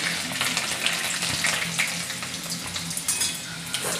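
Mustard seeds and garlic frying in hot oil in a pan, a steady close crackling sizzle with pops and spits throughout, occasional light clinks of a utensil, no voices.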